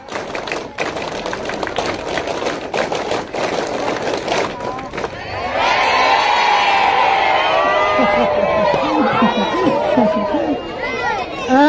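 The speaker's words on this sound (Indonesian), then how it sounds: "Dua kali tepuk pramuka." Scouts at a Jamran 2024 camp in Cibugeul, Sumedang, beat out the rhythmic tepuk pramuka clap twice in fast, crowded bursts, after which the group erupts into sustained loud cheering and shouted voices.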